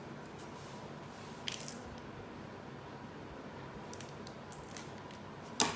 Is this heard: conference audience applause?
no